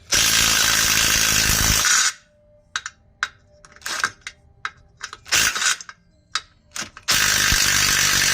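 Impact wrench with a 10mm deep well socket removing bolts on the front end of a GMC Yukon truck: loud whirring bursts at start and end, separated by a quieter run of sharp clicks and ratcheting taps.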